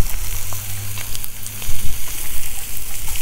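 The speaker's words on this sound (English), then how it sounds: "on this particular day, we're having grilled steak" Chuck eye steak sizzles loudly on a 200,000 BTU high pressure low profile burner, a steady close crackle and hiss with a deep roaring flame underneath, no voices.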